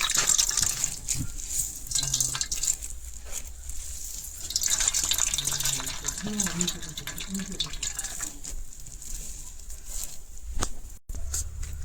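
Vegetable juice thinned with water is poured into a chapati dough mix, making soft, close trickling and dripping under a woman's quiet speech.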